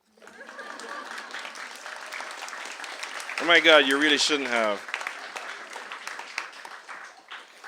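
Audience applause at a book reading by an author, a steady patter of clapping throughout with a voice speaking over it in the middle.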